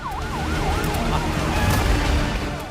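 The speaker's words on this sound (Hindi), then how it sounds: "सायरन बजने लगे" A siren wails after an airstrike in the middle of Gaza city, its tone rising and falling repeatedly over a dense rumble of traffic and street noise.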